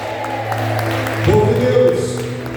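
Church congregation applauding the Lord during a worship service, a moderate wash of clapping under a sustained musical tone, rising slightly midway.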